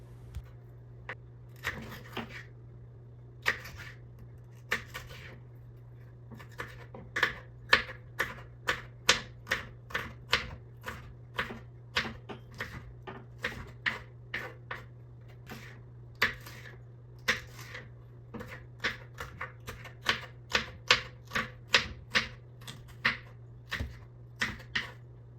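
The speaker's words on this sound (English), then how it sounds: "Let's just do the ASMR now, and you guys can listen to the cutting sounds." A knife chops food on a cutting board at home, giving a long series of crisp, close taps in irregular bursts over a low steady hum, with no talking.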